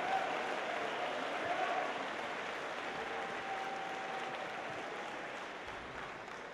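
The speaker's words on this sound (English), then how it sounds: "Round of applause." An audience at an opening ceremony of a robotics district event claps for the judges, a faint, distant, steady patter of applause throughout.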